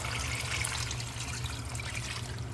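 Rice-wash broth pours into a pot of sinigang with Korean radish, a steady, soft trickling stream of liquid heard close and continuous over a low background hum.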